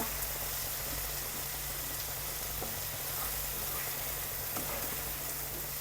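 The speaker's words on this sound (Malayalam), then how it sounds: "പിന്നെ സവോളയുടെ ഒരു പച്ച ഇതില്ലേ അത് മാത്രം മാറിയാൽ മതി ഒന്ന് ചെറിയൊരു വാട്ടിൽ ഒത്തിരി അങ്ങ് വഴറ്റി വഴറ്റി വഴറ്റി വഴറ്റി മൂപ്പിക്കോ" Onions sautéing in a pan for biryani, a constant close sizzle and crackle of frying, even and unbroken, with no talking.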